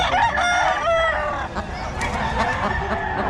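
Roosters crowing loudly and repeatedly at a market in Bocaue, several calls overlapping close by, with clucking fowl in the background.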